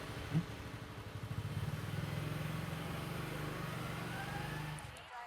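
A motorcycle engine runs steadily for several seconds, a low rhythmic idle that holds at moderate loudness and then cuts off near the end.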